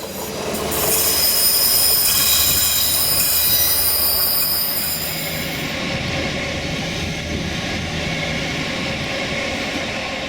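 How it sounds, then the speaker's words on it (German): A train on Germany's Rothaarbahn line rolls through a small forest station without stopping, wheels squealing loudly on the rails, the high screech fading partway through as the rumble continues. "Auch vor dem Waldbahnhof passiert heute Mittag der Zug ohne Halt."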